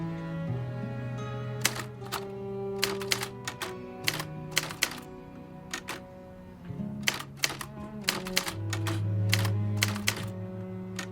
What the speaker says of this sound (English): Sometimes a simple rhythm of typing gets us from page 1 to page 2.